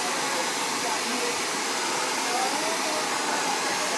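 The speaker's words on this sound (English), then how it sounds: "See how I'm blow drying the roots before I go out with these." A hair dryer blows steadily on the hair roots, a constant loud rushing whoosh that holds for the whole stretch without any talking.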